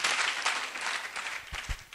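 A church congregation claps in applause, a steady wash of many hands heard from a moderate distance, fairly faint, with a couple of thumps near the end.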